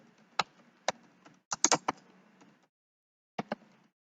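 Keys on a computer keyboard are tapped in sparse, irregular bursts: single strokes, then a quick cluster of clicks, a pause and two final taps, close and quiet with no talk.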